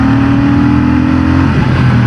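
A Royal Enfield Bullet 650 parallel-twin motorcycle pulls hard in third gear, a loud steady engine drone rising slightly in pitch as it accelerates, heard up close without talk.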